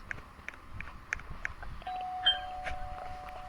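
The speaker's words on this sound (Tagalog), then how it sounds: "Kasi may nag-doorbell eh." A soft electronic doorbell chime in a Brookhaven video game sounds once against a faint, busy background of clicks and low murmur.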